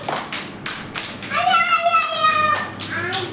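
Children clap their hands during a walking-balance game in a school play area, a scattering of sharp, irregular claps among excited kids' chatter and an adult's voice.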